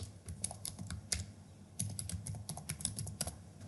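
Fingers typing an email address on a computer keyboard, with quick irregular clicking keystrokes in short bursts, close and fairly quiet.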